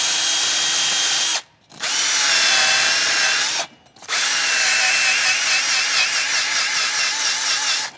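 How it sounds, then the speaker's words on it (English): A power drill fitted with a hub cleaning disc whirs loudly and steadily with a grinding edge against a 2016 Chevrolet Suburban's front wheel hub, stopping briefly twice before spinning back up. "And that goes on your drill."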